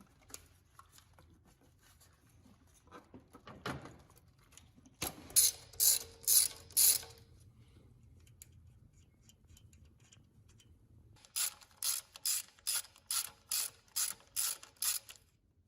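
Ratchet wrench removing valve cover bolts from a car engine: a few loud clicking bursts, a short run mid-clip and a longer rhythmic series of ratcheting strokes near the end, alone without talk.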